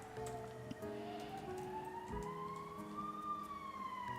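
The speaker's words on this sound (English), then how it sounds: "now it's an ambulance going there" An ambulance siren wails steadily outside, its pitch sliding slowly up and down as it passes at moderate distance, with faint street sounds underneath and no talking.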